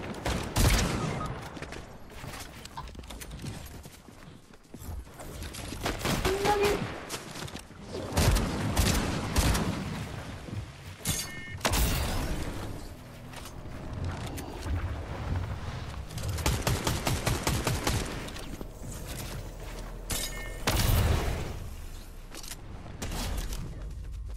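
Gunfire from the video game Fortnite sounds in dense, repeated volleys and bursts across the whole stretch, loud and close, with booming hits mixed in and no talking.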